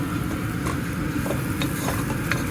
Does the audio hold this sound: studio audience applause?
no